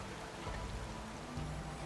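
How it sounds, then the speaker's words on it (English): Steady rain patters on rooftops in the city-building game Celestial Empire, a soft, continuous hiss of drops at low volume with no talk over it. "The sound of raindrops on the rooftops makes for a peaceful workday"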